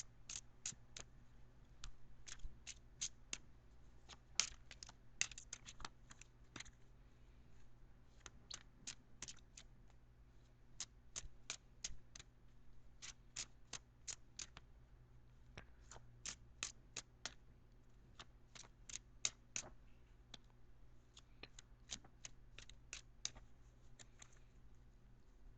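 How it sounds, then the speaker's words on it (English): Soft, crisp snaps of tarot cards being shuffled come in quick irregular bursts over a quiet background hum, faint and close, with no talking. "I'm going to shuffle for just a few seconds more."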